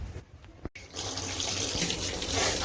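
Water running from a tap into a bucket or sink while clothes are washed by hand. The stream is soft and broken at first, then after a brief gap turns into a steady, strong flow.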